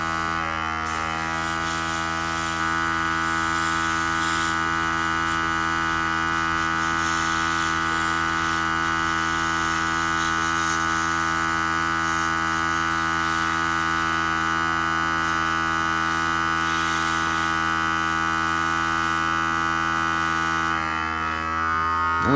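Airbrush spraying yellow paint thinned for coverage onto a miniature's carapace, a steady close hiss with a constant electric compressor hum underneath, running unbroken for about twenty seconds.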